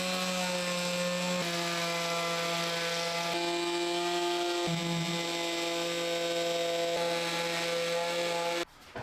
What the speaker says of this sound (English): I went ahead and created this little oscillating tool with some bolts that go through to the PVC pipe